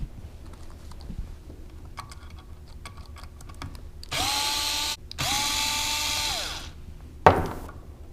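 A power drill backs screws out of a long-term chamber in two sustained whirring runs of about a second each, with quiet clicks and handling beforehand and a sharp short burst near the end.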